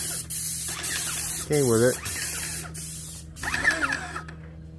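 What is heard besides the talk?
airless paint sprayer spraying a house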